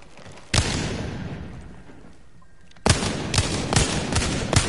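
Video game gunfire: sharp, loud bursts of shots, first a single blast, then after a pause a quick cluster of repeated reports close by, with a rushing noisy tail between them.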